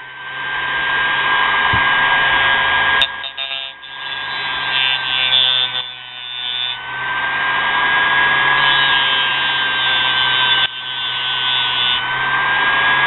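A small homemade mini grinder motor whines steadily at sanding speed, briefly dipping and surging a few times as it loads and releases, loud and close.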